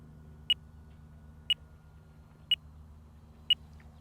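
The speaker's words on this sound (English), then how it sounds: "That's our 5-minute timer." An RC transmitter's five-minute flight timer sounds four short, evenly spaced electronic beeps about one second apart over a faint steady background hum.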